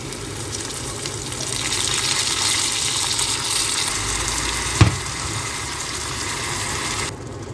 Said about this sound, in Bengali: শাকগুলা দিয়ে কিছুক্ষণ এটাকে ভুনে নিব।